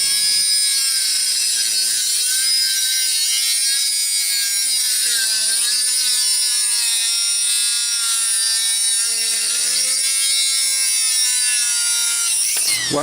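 A DEPSTECH DM-200A rotary tool's cutting wheel slices through a thick steel bracket, giving a loud, steady high-pitched whine and grinding screech that runs unbroken for about thirteen seconds, dipping slightly in pitch as the wheel bites harder.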